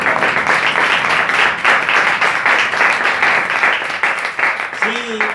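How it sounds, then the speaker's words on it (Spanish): Congregation applauding loudly and steadily after a prayer at a church seminar, a dense wash of hand claps sustained throughout with voices rising underneath near the end. "Démosle un fuerte aplauso al Señor."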